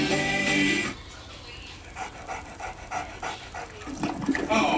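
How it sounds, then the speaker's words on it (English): A large dog pants rapidly in a Beethoven family movie trailer, quick rhythmic breaths after a brief loud burst of music at the start, close and moderately loud. "Everyone's favorite dog, Beethoven, is back."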